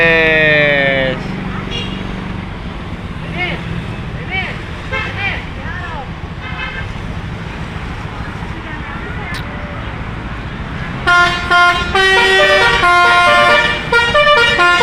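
Basuri telolet horn on the Mahardika 46 bus, a loud melodic multi-tone tootling that plays at the start, gives way to road and traffic noise, then returns louder and sustained near the end.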